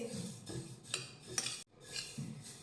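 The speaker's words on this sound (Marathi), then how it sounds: "चांगले फुलेपर्यंत हे तीळ भाजून घेऊयात" Sesame seeds roast in a pan as a spoon scrapes and stirs them in short, close bursts, with a soft rattle between strokes and a brief gap of quiet.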